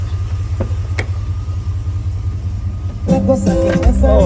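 A Sierra truck engine with long tube headers idles with a deep, steady rumble close by, then a sharper burst of engine noise rises near the end.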